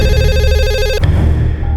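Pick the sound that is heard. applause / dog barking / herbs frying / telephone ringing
telephone ringing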